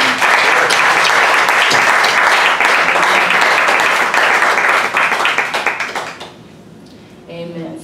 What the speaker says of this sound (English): So can we just clap our hands for them?